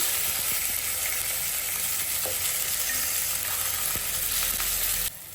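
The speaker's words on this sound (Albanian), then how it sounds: "specat do i fërgojmë nga të dy anët, derisa fillojnë pak të skuqen" Peppers fry in a pan with a steady, even sizzle and a few faint clicks, dropping off sharply right at the end.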